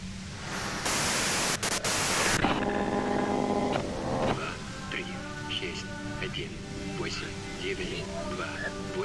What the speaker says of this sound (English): do it through the white noise